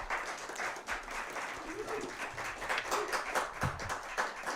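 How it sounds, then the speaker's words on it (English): An audience gives Santa a round of applause at a Christmas show, a crowd of hands clapping steadily and fairly loud, with a few louder claps and some faint chatter mixed in. "give Santa another round of applause"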